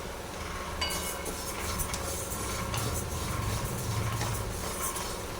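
Mung dal sizzles and rattles in a hot kadai over a gas flame, a steady close frying hiss with scraping stirring noises throughout.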